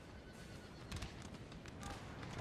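Horses neighing and whinnying amid the noisy clamour of a battle in the strategy game Napoleon: Total War, short calls rising over a steady dense rumble with faint hoof clatter.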